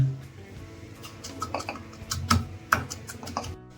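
Garlic cloves, black pepper and cumin are pounded coarsely for a mango rasam, giving a series of irregular, light knocks and crunches close by, with no voices.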